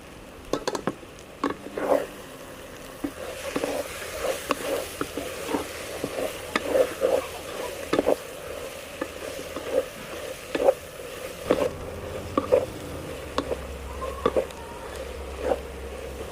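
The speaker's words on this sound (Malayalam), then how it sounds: "ഇനിയിപ്പോൾ നന്നായിട്ട് ഒന്നുകൂടി ഇളക്കി വഴറ്റിയെടുക്കാം." Mint, coriander and curry leaves stir-fried in a pan for Kerala chicken biryani: a steady close sizzle broken by repeated scraping and stirring strokes of a spoon, with no talking.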